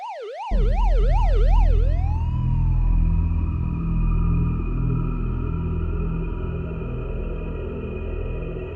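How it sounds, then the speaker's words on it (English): A wailing siren sweeps up and down rapidly, then settles into a sustained tone over a rumbling engine, loud and close. "Police sirens. Coming closer."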